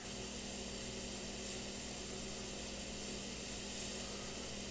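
A micro airbrush sprays House of Color Lemon Yellow paint in a steady, unbroken hiss that stays close and even throughout, with no voices over it.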